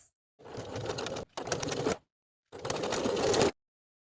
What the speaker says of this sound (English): Sew the side edges from the top fold and over the flaps with a 1/2 inch seam allowance.